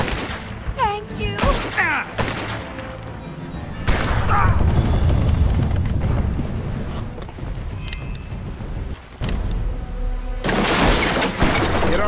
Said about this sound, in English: Get on that keelboat cannon and blast those boats.